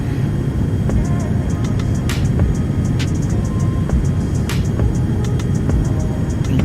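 Beechcraft Premier 1A business jet accelerating down the runway for takeoff in X-Plane 11, a steady loud engine roar with broadband rumble and faint clicks, continuous throughout.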